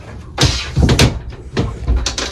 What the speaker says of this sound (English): You can close the door like this